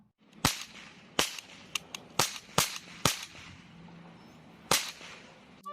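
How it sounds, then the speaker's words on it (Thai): Sharp, loud cracks from a cap gun fired about eight times at irregular intervals, each snap quick and bright against a quiet background. "ซึ่งปืนนี้นะครับก็เป็นปืนแก๊ปนะครับ"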